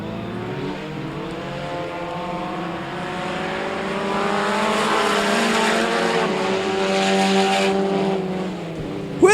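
Race cars roar around a dirt speedway oval at Kennedale Speedway Park, a dense, sustained engine drone with shifting pitch as the pack sweeps through the turns, steady and loud throughout.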